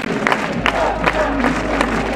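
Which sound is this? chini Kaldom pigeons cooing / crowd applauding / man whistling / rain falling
crowd applauding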